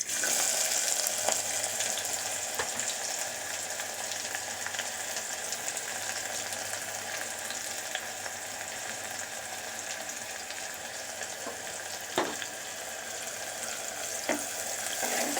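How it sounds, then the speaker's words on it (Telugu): Onion pieces fry in hot oil for an ivy gourd masala curry, a soft, steady sizzle with occasional faint crackles and pops throughout. "ఇందులో మనము కట్ చేసి పెట్టుకున్న ఉల్లిపాయ ముక్కలు యాడ్ చేసుకుందాం"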